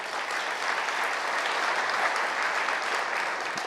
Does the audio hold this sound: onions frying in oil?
no